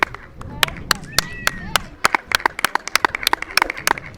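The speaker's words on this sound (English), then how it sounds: "That guy's clap was making a weird sound, like that like sound" Sharp hand claps in front of a pyramid at Teotihuacan, a quick irregular series of loud close cracks, some followed by a brief chirping echo, with people talking around them.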